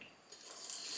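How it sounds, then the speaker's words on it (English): Tap water runs into a protein shaker to mix cream of rice, a soft hiss that builds over about a second into a steady, fairly quiet pour with no talking. "let me get some water in there now"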